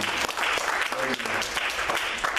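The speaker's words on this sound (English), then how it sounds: "Come on, let's clap." A church congregation at a Baptist service in Los Angeles claps together in dense, loud, continuous applause, with a voice faintly mixed in.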